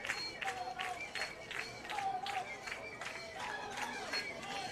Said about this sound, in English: They've got the clapping going, the noisemakers.